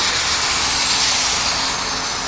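A helicopter landing for emergency patient transport, engine roaring close by, a loud, steady high-pitched turbine whine over a constant rushing drone.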